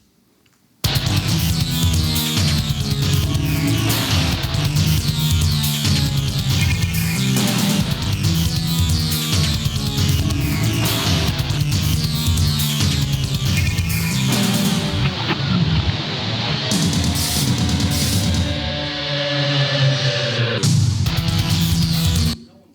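Dense, loud boss-fight music for Chaos from a Sonic video game plays without a break as a loop of about twenty seconds, with heavy low end and bright high layers, plus a few brief game effects and no talking.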